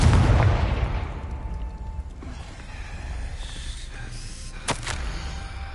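A Confringo blasting spell explodes in Hogwarts Legacy with a heavy opening boom that rumbles and fades, followed by softer crackles and a sharp later pop.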